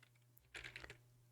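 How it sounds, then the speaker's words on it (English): Quick burst of keystrokes on a computer keyboard, a handful of soft, close clicks lasting under a second in a quiet room. "So I'll just type"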